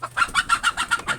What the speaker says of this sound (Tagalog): Oh na manok ko.